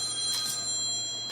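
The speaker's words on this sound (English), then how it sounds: "The phone rings off the hook." A telephone rings indoors in a kitchen, a short bright double trill of bell tones, fairly faint against a steady background hum.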